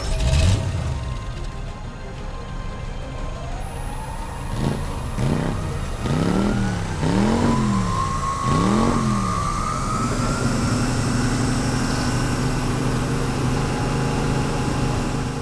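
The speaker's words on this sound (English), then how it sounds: "I've got the blade all clamped up in the milling machine." A milling machine with a small-diameter cutter spinning at maximum speed cuts the fuller on a dagger blade, a steady machine whine with rising and falling tones as the cutter passes repeatedly along the steel.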